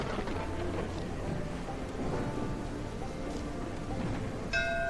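Steady heavy rain falling in the mouse city-building game Whiskerwood, a dense continuous wash of noise held at an even level throughout, with a brief bell-like chime near the end.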